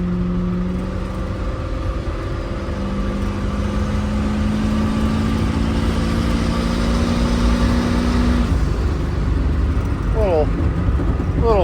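Turbocharged Turbago engine pulling hard in third gear on the road, a loud steady drone with rising pitch over about eight seconds before easing off, road and wind noise throughout.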